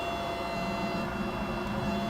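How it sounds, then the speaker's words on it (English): A fuel pump in a 2000 Honda Civic Si whirs with a steady, fairly quiet electric hum carrying faint tonal whines, continuous and unchanging, with no talk over it. "That noise is the fuel pump."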